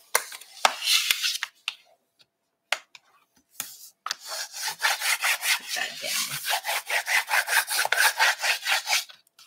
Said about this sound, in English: Now we're just going to burnish up the edges.